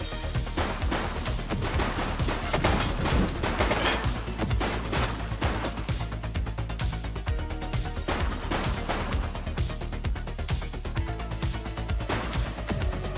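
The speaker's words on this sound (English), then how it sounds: "Shots fired!" Gunfire fills a firefight in the police video game The Precinct, with rapid, dense shots cracking continuously and at a steady loud level over a busy game soundscape, without any break in the shooting.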